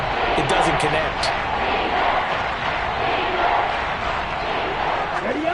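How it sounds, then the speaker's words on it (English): A Seahawks home crowd roars at a football game, a loud, sustained wash of cheering that fills the stadium beneath a commentator's voice. "the Seahawk crowd really makes it tough for an offense to communicate"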